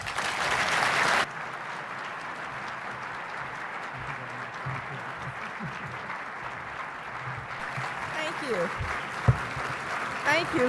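Loud audience applause welcoming Condoleezza Rice at the SVPB annual event, sustained clapping that swells and fades over several seconds, with murmuring and a voice beginning near the end.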